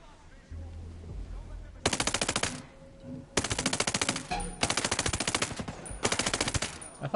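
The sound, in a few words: unsilenced gunfire from Ghost Recon Breakpoint video game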